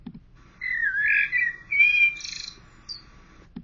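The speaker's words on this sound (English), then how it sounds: "Let's first listen to the bird this time." Recorded blackbird song: a few clear whistled phrases and trills of moderate loudness over a faint steady hum, with short pauses between the phrases.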